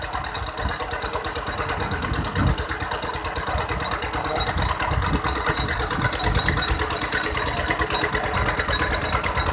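Engine-driven water pump running at a rice field, pumping water from a canal, a steady close mechanical drone with rattling pulses and slight swells in loudness.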